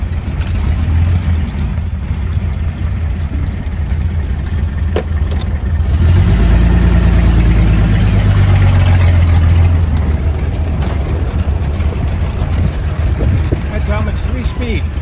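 An antique car drives along a town street near Lake Chapala in Ajijic, its low engine rumble steady throughout and swelling louder midway as it accelerates, with road and traffic noise around it.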